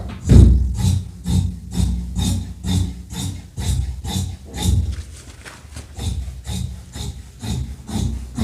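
Scissors cutting fabric for a salwar, half an inch outside the marked lines: rhythmic, close rasping snips repeating about once a second, loud and alone.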